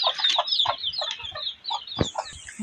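Close clucking from a hen with high, rapid peeping of chicks layered over it, busy and continuous.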